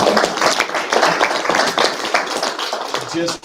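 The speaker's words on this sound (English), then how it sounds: "go ahead and clap up" Scattered clapping from a school board meeting audience, dense and steady throughout, with some voices mixed in near the end.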